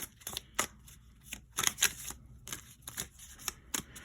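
Tarot cards riffled and shuffled in quick bursts, crisp papery flutters separated by short pauses, close up with no talking.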